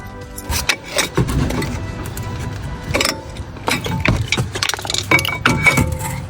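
Loosened car brake caliper dropping free, heard as a series of sharp metallic clinks and knocks at irregular intervals over a low background hum, close and moderately loud, no speech.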